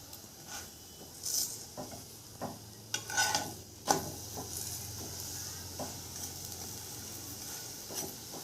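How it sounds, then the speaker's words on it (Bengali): Beetroot paratha mixture frying in white oil, with a low sizzle and intermittent stirring and utensil scrapes against the pan. "সাদা তেলটা দিয়ে আমি আরও ভালো করে এটাকে ভেজে নেব"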